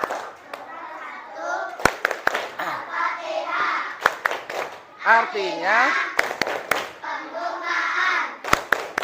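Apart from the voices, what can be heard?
children clapping a rhythm for Al-Fatihah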